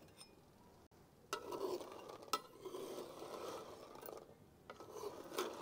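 Vadiyan frying in oil in a kadai, a soft, continuous bubbling sizzle with rasping stirs and scrapes against the pan, fairly faint and close, starting after a brief quieter moment, no speech.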